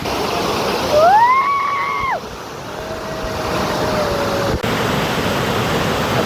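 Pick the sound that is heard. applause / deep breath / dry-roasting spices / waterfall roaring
waterfall roaring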